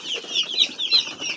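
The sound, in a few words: broiler chicks clucking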